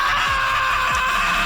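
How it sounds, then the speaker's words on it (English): An animated Dragon Ball Z fighter, Goku, screams while taking brutal hits in battle, a loud continuous cry over swooshing impact sounds with no pauses. "Listen to the screams."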